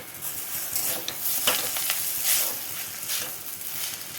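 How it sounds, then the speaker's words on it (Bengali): Chow mein being stirred in a hot frying pan after soy and tomato sauce are added, with a continuous loud sizzle and repeated scraping, rustling strokes of the spatula through the noodles. "দিয়ে আবারও নাড়াতে থাকবো।"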